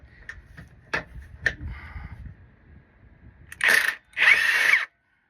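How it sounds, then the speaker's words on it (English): An impact wrench spins bolts off a Jeep Wrangler: a few short taps early on, then two loud, sustained whirring bursts close by near the end, with no talking. "I'm going to go ahead and just use my impact to remove these bolts"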